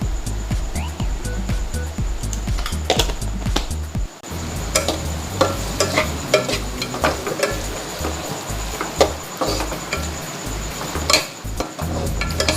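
Ground masala fries in a pan for an Indian chicken curry with pepper, giving a steady close sizzle broken by frequent clinks and scrapes of stirring.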